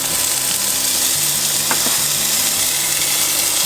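Chopped bacon sizzling steadily in a hot pan while cooking in the back of a ute, a loud continuous crackle with faint stirring clinks, no voices.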